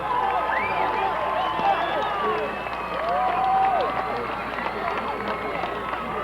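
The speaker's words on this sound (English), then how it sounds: "Lee gets a big hand from this crowd" A high school football crowd at a 1982 CIF playoff game between Westlake and Oxnard claps and cheers in a steady, swelling wash, with announcer talk running over it.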